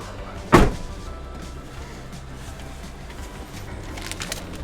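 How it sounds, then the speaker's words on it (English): A camper van door slams shut once, a sharp loud thud near the start, followed by quiet outdoor ambience with faint birds. "Closing this door one last time."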